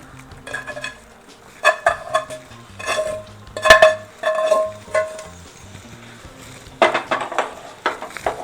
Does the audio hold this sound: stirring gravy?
yes